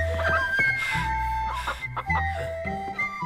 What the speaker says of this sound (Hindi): मैं पहाड़ों पर इस मुर्गे को पकड़ने गया था